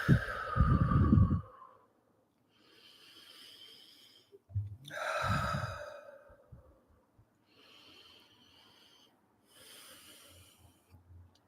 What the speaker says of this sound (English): take a few deep, clearing, cleansing breaths